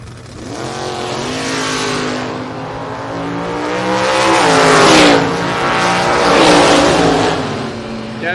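A Mustang and a Super B launch side by side at a drag race, their loud engines revving in rising and falling surges as they accelerate hard down the strip.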